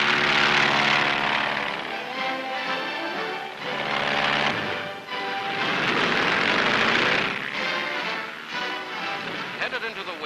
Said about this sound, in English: propellers are turned over for a flight over the Arctic ice cap